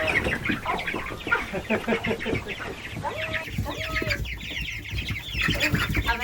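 Several meat chickens cluck and chatter close by in a continuous, busy flurry while being moved to pasture, with some rustling and brief soft voices mixed in.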